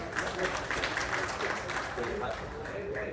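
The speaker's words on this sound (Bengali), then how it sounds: "আমি আমার ব্র্যান্ডের জন্য একটা তালি চাচ্ছি আপনাদের সবার কাছে" An audience claps together in a dense, steady burst of applause that carries on for a few seconds, with crowd noise and a voice mixed underneath.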